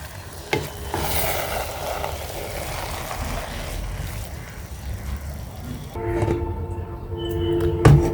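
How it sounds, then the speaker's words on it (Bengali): Fish khichuri being stirred in a cooking pot, with a steady scraping and gentle sizzle of rice against the pot bottom, close up and moderately loud, plus a few clanks of the spoon toward the end. "তো আমি ভালোভাবে নেড়ে দিচ্ছি তাছাড়া নিচে লেগে ধরবে"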